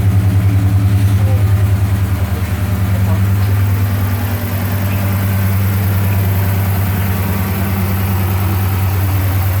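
A 2009 Dodge Charger with a 5.7-liter V8 fitted with aftermarket headers, idling with a loud, deep, steady burbling rumble close by throughout, a slight dip midway, and people talking over it.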